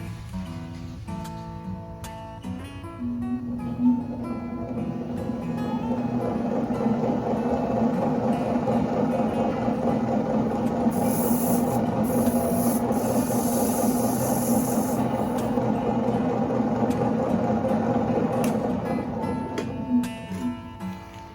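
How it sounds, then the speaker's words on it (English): A Clayboss pottery wheel spins with a steady rubbing, grinding hum from a worn bearing, rising and holding at a constant drone before winding down. "One of the bearings there, you can hear it. It's got a little noise."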